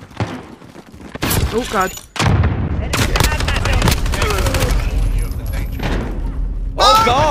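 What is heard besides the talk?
gunfire in the video game Call of Duty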